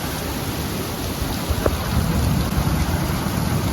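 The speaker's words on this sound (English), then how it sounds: "Heavy rain, not in the forecast." Heavy nighttime rain in Leakey, Texas, pours down in a loud, steady roar with a low rumble of thunder underneath, continuing without a break.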